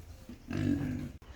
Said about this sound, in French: Bon là je suis venue donner à manger aux cochons.